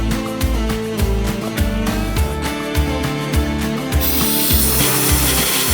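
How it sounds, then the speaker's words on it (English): A threading tap being turned by hand through a hole in a Honda XR engine case, a close, regular series of ratcheting clicks and scraping metal strokes that blurs into a continuous grinding rasp toward the end. "I'm gonna run a tap through it quick so that doesn't cause any issues down the road"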